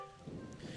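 Rain patters steadily under a soft rumble of thunder in Wind Waker HD, a faint, brief stretch of stormy ambience with no voices.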